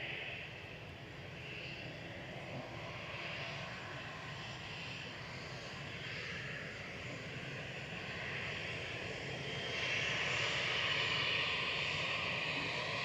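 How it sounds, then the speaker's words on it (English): A Finnair propeller airliner taxiing for departure at Manchester Airport gives off a steady, droning engine hum that swells slightly louder toward the end, heard from a distance with no talking. "we're going to have a noisy prop joining us. I can hear it already."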